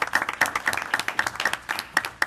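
A short burst of clapping from a small group at a police jury meeting, uneven and close, with sharp individual claps fading in and out.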